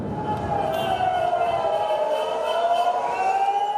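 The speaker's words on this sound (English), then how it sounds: "As sirens sounded across the country" Air raid sirens sound during an Iranian ballistic missile attack on Israel, a steady wailing tone that slowly rises and falls, continuous and fairly loud with a faint crowd murmur beneath.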